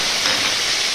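Whole spices, dried chilli and bay leaves dropped into hot oil, giving a dense, even sizzle that hisses steadily and loudly for a brief moment, with no talking.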